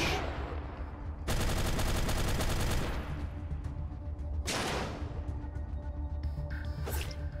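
Gunfire in the post-apocalyptic video game Atom RPG: two long, loud bursts of rapid automatic fire, then a short crack near the end, with no speech.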